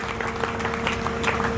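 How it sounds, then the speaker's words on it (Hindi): A crowd at a Hindi poetry gathering (kavi sammelan) in Deshnok claps steadily throughout, a dense patter of applause with a faint steady tone underneath. "एक बार जोरदार तालियों से स्वागत करें भाई रविंद्र जौनी का।"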